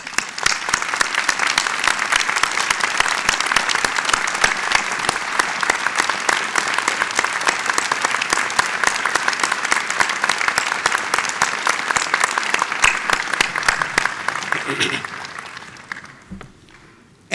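A large crowd at a medical school commencement applauds loudly and continuously for about fifteen seconds, then the clapping thins out and fades to quiet.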